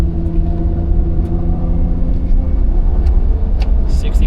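A Mitsuoka Ray K car is driven at full throttle, its small engine droning and rumbling loudly from inside the cabin as it accelerates steadily.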